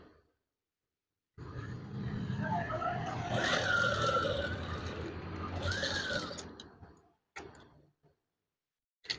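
An electric sewing machine runs steadily for several seconds while stitching curtain fabric, a close mechanical whir that speeds up and slows down, followed by a few light clicks.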